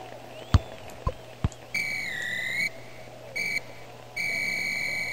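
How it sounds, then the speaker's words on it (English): A referee's whistle ends a match in the Backyard Soccer video game: three shrill, steady blasts (long, short, then long) over a low crowd murmur, preceded by a few sharp thuds. "There's the whistle, and this game is history."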